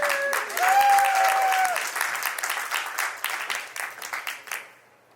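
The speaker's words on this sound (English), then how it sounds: "round of applause for Randy here" A panel audience gives a round of applause for a guest speaker, a steady crowd clapping that swells early, holds, then tapers off toward the end, with a brief voice or whistle-like tone near the start.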